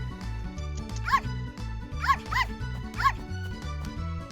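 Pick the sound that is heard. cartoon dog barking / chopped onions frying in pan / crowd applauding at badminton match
cartoon dog barking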